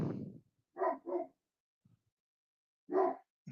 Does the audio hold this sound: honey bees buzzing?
no